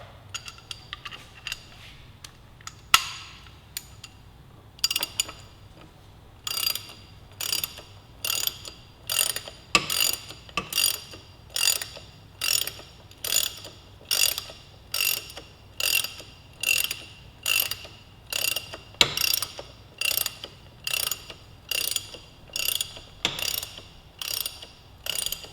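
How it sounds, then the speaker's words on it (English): Ratchet driving down the countershaft sprocket fastener on a 2015-2017 Yamaha R3 motorcycle, a long run of regular metallic clicking strokes, close and crisp, with a few handling taps at the start. "We're going to get our ratchet"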